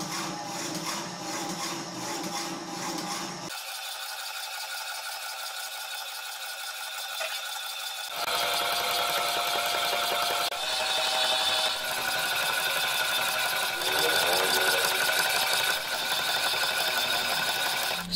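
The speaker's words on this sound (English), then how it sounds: "I'm going to use the same hacksaw to cut off the core of my transformer" A homemade hacksaw cuts through the core of a transformer with steady, repetitive rasping strokes that carry on for around eighteen seconds, with a quieter stretch partway through.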